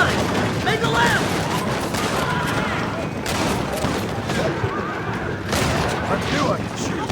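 Gunfire crackles in Red Dead Redemption, a rapid volley of sharp shots and booms spread across the scene while voices talk over the fighting.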